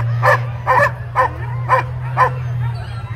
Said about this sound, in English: Happy sled dogs.